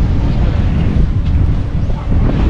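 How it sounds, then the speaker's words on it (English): Strong wind gusts steadily across the microphone outdoors at a hilltop wind farm, producing a continuous low rumbling buffet throughout with no clear pauses. "The wind here is strong."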